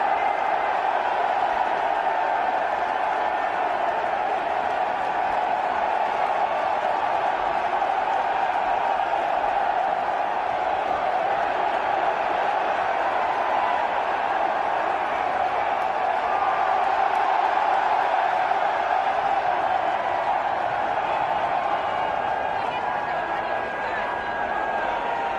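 A large crowd at a Navy event cheers for the president in a sustained, dense roar that holds steady and loud throughout, with no clear breaks.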